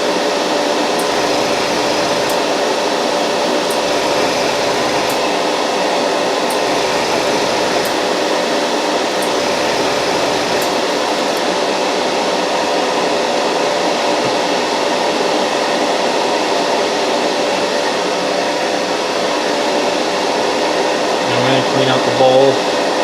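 An Iwata Neo airbrush sprays cleaner through, giving a steady loud airy hiss, probably with compressor hum, running continuously with a few faint clicks and a brief low thump near the end.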